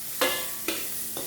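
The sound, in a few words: stir-frying nasi goreng padang in a pan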